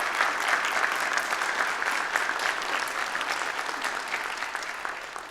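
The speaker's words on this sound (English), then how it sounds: "We give her a round of applause." An audience at an inaugural ceremony applauds steadily, a dense and fairly loud round of clapping that slowly fades toward the end.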